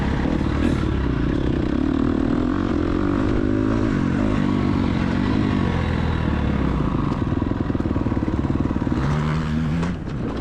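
An off-road motorcycle engine runs and revs unevenly, sputtering as it stalls and then catching again, with a steady close mechanical rumble and no voices.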